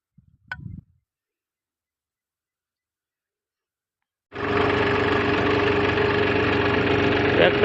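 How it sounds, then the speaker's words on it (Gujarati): A farm tractor's engine starts up after a brief sound and a long quiet, then settles into a steady, loud, close idle that runs to the end. "ટ્રેક્ટર ચાલુ થઈ ગયો આપણું"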